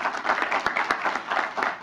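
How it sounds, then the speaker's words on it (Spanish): Seminar audience applauding after a panelist is introduced, a short steady burst of dense clapping heard close and fairly loud, with no voices over it. "un aplauso por favor"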